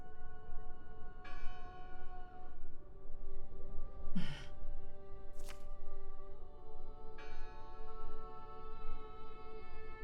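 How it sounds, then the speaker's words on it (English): A church bell in the video game Draugen rings in slow, resonant strokes that decay for seconds, heard from a distance, with breathy gasps and sighs in between. "Listen! The bell! They're still in there!"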